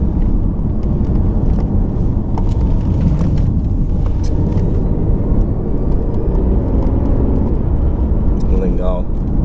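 Heard from inside the car on a ride, the BMW i8's 1.5-litre turbocharged three-cylinder engine gives a loud, steady, low rumble throughout, with a voice faintly present over it.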